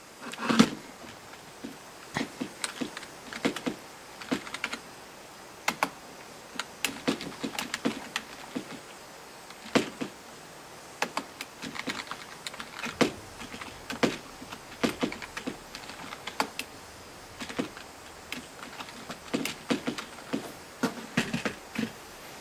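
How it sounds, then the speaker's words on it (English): Steady computer keyboard typing, a run of quick uneven clicks with short pauses as answers are entered one per line, close and fairly quiet with no talking. "So I'll just type in some answers."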